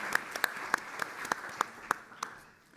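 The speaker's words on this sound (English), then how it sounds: "let's give him a warm round of applause" An audience at an annual news conference claps in a loose, evenly spaced rhythm. The sharp individual claps stand out and fade away by the end.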